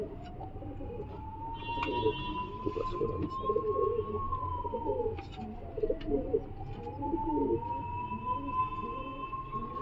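Soft, repeated cooing of giribaz pigeons, close by and continuous, with a long rising and falling siren-like wail running underneath and faint background noise.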